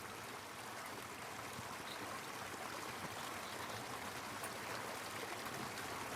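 Steady, broadband rushing of flowing water in Crooked Creek, Arkansas, constant and even throughout, with no voices.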